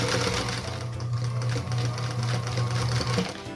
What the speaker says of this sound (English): line my fabrics up, and then stitch 1/4 inch line